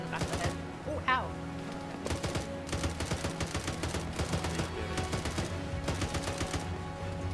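Rapid gunfire in the Arma 3 military shooter game, repeated bursts of shots through the clip at moderate level, with a brief voice early on.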